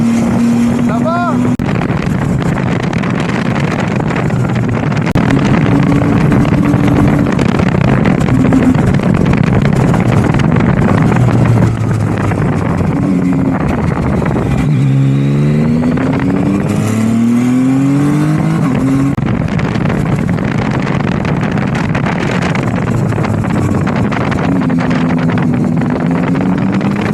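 Zontes 703F motorcycle engine pulling hard in third gear on an open road in Réunion, with rising and falling harmonic engine tones under steady wind buffeting, heard continuously from the rider's position with brief talk.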